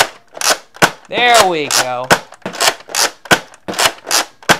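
A Nerf Double Dealer toy blaster fires a rapid series of sharp plastic snaps and clicks, about a dozen close, loud pops in an uneven rhythm, with a brief spoken exclamation between the shots.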